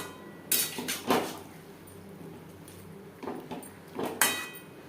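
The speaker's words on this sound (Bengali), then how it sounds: "আলু মশলার সাথে বাঁধাকপি বেশ ভালো করে মিক্স করে দেব" A metal utensil scrapes and clinks against a pan while stirring cabbage with potato and spices for a vegetarian curry, in a few irregular strokes at moderate volume.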